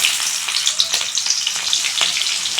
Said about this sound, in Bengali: এখন এই তেলে আমি পেঁয়াজগুলো দিয়ে দিব